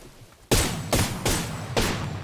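Four loud gunshots from a firearm in the Apex Legends video game, spaced roughly every half second, each a sharp broadband crack with a short decaying tail.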